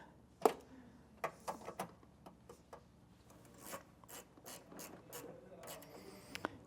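A 3/8 socket wrench tightening a car battery terminal post, giving a series of close ratcheting clicks and rasping turns in short irregular bursts.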